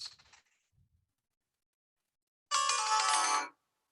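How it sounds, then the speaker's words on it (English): Sympathetic strings of a keyed string instrument ring out in a bright, shimmering burst lasting about a second after a brief faint strum, then decay into silence. "The sympathetic strings sound like this."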